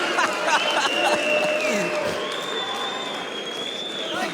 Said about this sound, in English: I've never seen a crowd cheer so loudly for somebody changing position on the cage before